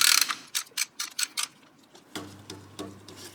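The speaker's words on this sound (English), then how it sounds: "So you can see that pulley kind of moving upward as I turn this bolt" A Ferrari engine belt pulley is tensioned by turning a bolt with a ratcheting tool, giving a series of sharp, evenly spaced clicks, close and loud, followed by a lower mechanical hum with a few softer clicks.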